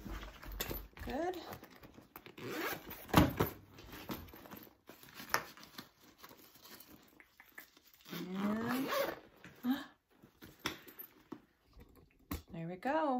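A zipper on a sewn crossbody bag add-on is worked in several short, scratchy runs, mixed with fabric handling and occasional talk.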